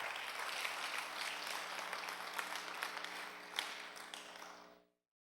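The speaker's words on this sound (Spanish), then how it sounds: "Den un fuerte aplauso." Congregation in a church breaking into strong, dense applause for several seconds, steady and fairly distant, fading out at the end.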